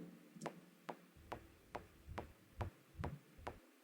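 A metronome ticks at 140 BPM, with quick, evenly spaced sharp clicks about eight in a row, close and modest in level.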